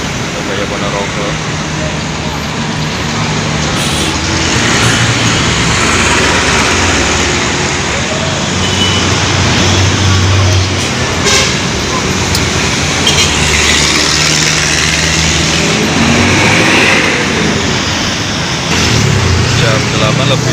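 An intercity bus passing on an arterial road, a continuous loud roar of heavy traffic and engine rumble heard close, with someone talking over it.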